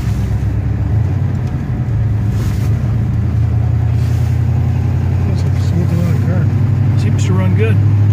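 A 1971 Oldsmobile Cutlass is heard being driven. Its engine gives a steady, loud, low drone with road rumble throughout, with no noticeable change in revs.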